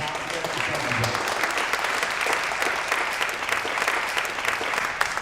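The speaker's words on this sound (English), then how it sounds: "So give him a round of applause for Donald" An audience applauds an honoree at a DC community event on police and LGBTQ+ history, with dense, steady clapping that fills the whole stretch at an even, sustained level, and a faint voice sits beneath it.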